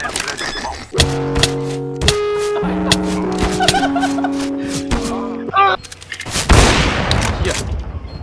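Gunfire in the video game CS:GO, with several sharp bursts of shots and booms mixed with game music tones and bright noisy blasts toward the end.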